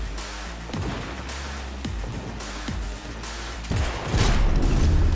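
Rapid gunshots ring out in Cyberpunk 2077 as a series of loud, booming cracks spaced about a second apart, rising into a denser, heavier volley at the end over a low rumbling background.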